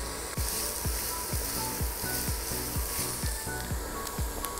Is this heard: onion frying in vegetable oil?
yes